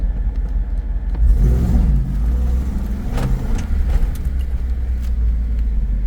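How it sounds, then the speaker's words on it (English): A Jeep Wrangler 392 accelerates with traction control on, its engine giving a loud, deep rumbling roar that swells and holds, heard from inside the vehicle. "Okay, traction control is on. Let's see if all 4 tires indeed spin."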